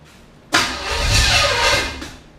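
The 5.7-litre small-block V8 of a 1980 Camaro cranks over with a sudden loud onset, churning roughly for about a second and a half without catching before stopping abruptly.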